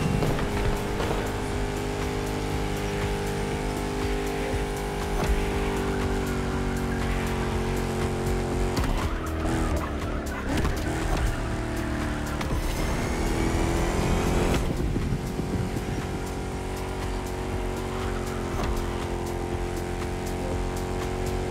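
Chrysler SRT8 engine roaring steadily through a race in The Crew Motorfest, loud and continuous with gear-shift dips around the middle, no talk.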